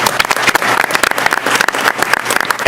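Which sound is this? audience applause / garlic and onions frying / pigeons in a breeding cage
audience applause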